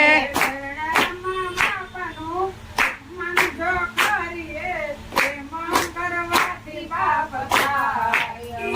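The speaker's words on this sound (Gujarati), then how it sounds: "હરી હરી તાળીઓ પાડો" Rhythmic hand clapping at a devotional satsang in Bhavnagar, steady beats keeping time under a group singing a bhajan, close and lively throughout.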